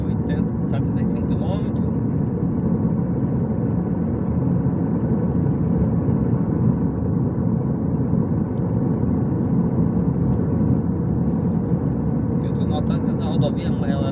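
A car travels along a busy yellow-lined highway at about 75 to 80 km/h, giving a steady, loud rumble of engine and road noise throughout with no breaks.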